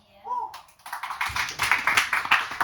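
A brief spoken voice gives way to a crowd at an expat comedy night breaking into dense, sustained applause that builds and holds.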